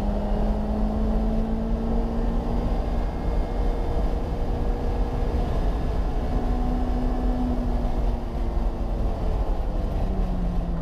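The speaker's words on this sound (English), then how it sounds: "You can really hear the exhaust note on this camera angle." A Mazda race car on track at Mazda Raceway Laguna Seca, its exhaust note a loud, continuous engine drone whose pitch rises and falls with shifts and throttle, heard alone.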